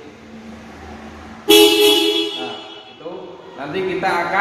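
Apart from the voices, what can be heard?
original factory car horn of a Toyota Agya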